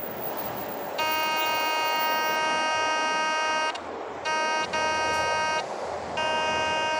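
A White's TM-600 metal detector emits its steady electronic background tone, a close, bright buzzing drone that cuts off and resumes several times over a faint hiss of outdoor noise, with no talking.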